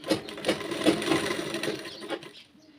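A sewing machine stitches a kanchali blouse in a close, steady run of rapid mechanical clatter with slight surges, then it slows and fades out at the end.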